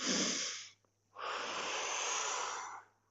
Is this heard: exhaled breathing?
yes